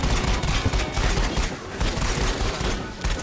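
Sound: gunfire in VR video game Raw Data

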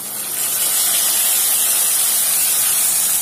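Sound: ginger, onion, garlic and tomato paste added to frying onions

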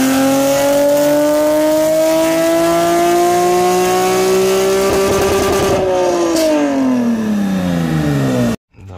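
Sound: Nissan 370Z engine revving on a dyno

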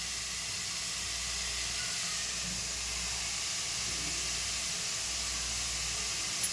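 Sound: grated gourd frying in hot ghee

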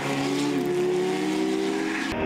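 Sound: race cars on track at Zwartkops Raceway

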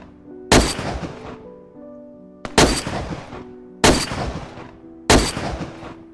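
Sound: gunfire from the video game DayZ

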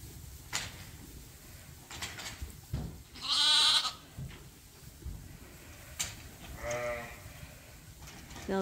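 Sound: lambs bleating on a sheep farm

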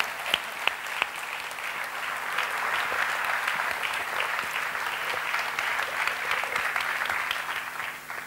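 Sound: applause for Jonathan Racionero

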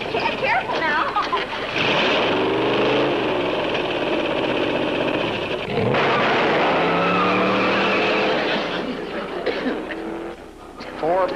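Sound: car accelerating fast and skidding

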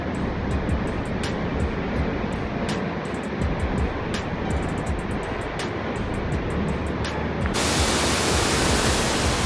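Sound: Adoshi waterfall near Khopoli

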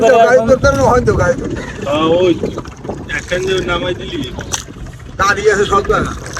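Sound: boat on a river

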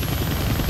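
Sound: helicopter in the video game Deadpool

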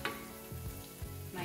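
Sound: garlic frying in a pan

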